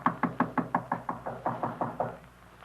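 A radio drama effect of knuckles rapping on a wooden door, about a dozen evenly spaced knocks in a steady rhythm that gradually softens, heard alone and close.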